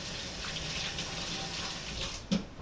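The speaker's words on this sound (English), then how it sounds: "Let me rinse my hands real quick." Kitchen tap water running steadily while hands are rinsed after baking raisin oatmeal cookies, a soft, even hiss close by with a brief splash near the end, no talking.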